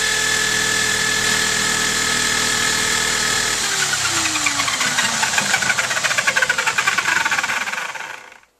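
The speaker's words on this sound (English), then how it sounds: "Then we just can turn the drill on. Now it's going to be a bit noisy" An electric drill spins a homemade high-energy ball mill drum on a central axis at about 2800 rpm. A loud, steady motor whine drops in pitch as it winds down into a rapid rattling chatter, then cuts off.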